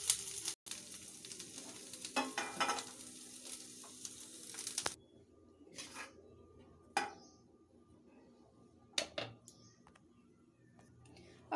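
Golden-brown potatoes frying in oil in a pan, a loud hissing sizzle for the first few seconds, then quieter with scattered spoon clicks and scrapes against the pan.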